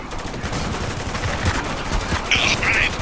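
Gunfire rattles in Spec Ops: The Line as a dense, continuous stream of close rifle and machine-gun shots with a few louder distinct bangs, backed by a brief high electronic beep.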